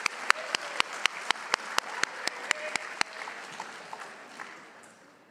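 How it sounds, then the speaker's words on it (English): A small school awards-ceremony audience claps for tenth-grade students in a hall, starting with sharp, evenly spaced individual claps up close that thin out and fade toward the end. "please join me in a round of applause for these students."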